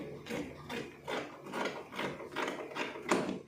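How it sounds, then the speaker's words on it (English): Scissors cutting fabric for a dress pattern, making a steady run of rhythmic snipping and crunching strokes, close and fairly loud, with no talking. "let me cut this out so it doesn't confuse us"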